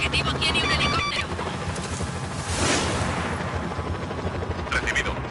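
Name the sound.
helicopter with gunfire in the video game Just Cause 4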